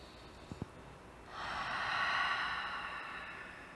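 A deep, steady breath drawn during a floor yoga hip stretch: two brief soft nasal puffs, then a long, smooth, airy breath that swells and holds close to the microphone, quiet and alone.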